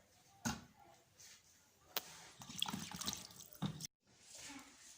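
Hot water splashes and runs in a sink while beef trotters are washed, with irregular bursts of pouring and sloshing, a few sharp clatters, and brief pauses.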